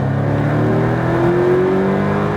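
A Porsche Cayman GTS engine pulling hard on a track, a loud, steady close-up drone with a slowly rising pitch, heard continuously from start to end with no talk over it.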